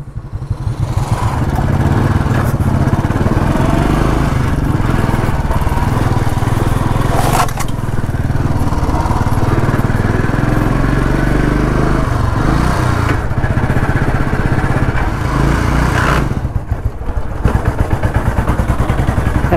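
A push-started motorcycle engine runs continuously on a mountain road near Badrinath in Uttarakhand, a loud, steady chugging drone with clattering mechanical noise throughout.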